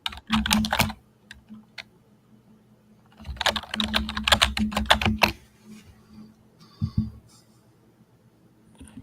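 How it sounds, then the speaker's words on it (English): Typing on a computer keyboard, close and crisp, in two bursts of rapid clicking separated by quiet pauses, with a few scattered keystrokes afterwards. "mute your mic because your typing is popping up"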